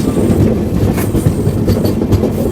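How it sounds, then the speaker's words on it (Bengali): Train rolling through winding hilly countryside, a loud, close, continuous low rumble with rhythmic clickety-clack of wheels on the rails and no voices. "আর আঁকা বাঁকা পাহাড়ের দিকে আমাদের ট্রেনটা চলে যাচ্ছে"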